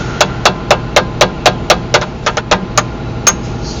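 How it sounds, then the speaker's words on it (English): Sharp metallic hammer blows drive a chisel into hot, red-glowing railroad traction motor coil cables, about a dozen close, loud strikes in a quick uneven rhythm over a low background hum. "Stick your chisel in there and hammer it down."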